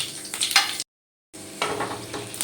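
Half a spoon of nigella seeds and a green chilli crackle in hot oil with a stir or two, a close sizzle that cuts out to silence for half a second before resuming.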